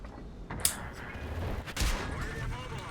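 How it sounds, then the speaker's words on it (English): In a tank video game, a tank gun fires with a single sharp blast followed by a heavy low rumble, then a second muffled boom from the same tank fight. "And I get shot by the 703."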